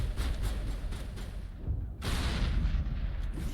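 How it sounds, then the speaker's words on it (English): Grenades go off in a colony-building video game: dense, booming blasts and rumbling bursts rolling one into the next, with a sharp heavy detonation about halfway through and no voices. "Look at that, grenades!"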